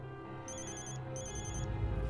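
A telephone rings in two bursts of electronic trilling, a short pause between them, over a low background bed.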